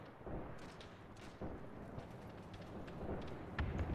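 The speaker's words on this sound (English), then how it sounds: "Oh no, bombs! Bombs dropped!" Bombs dropped by a B-17 explode in a video game battle of the Arab-Israeli war, giving a series of muffled, rumbling distant booms and thuds under a continuous low roar.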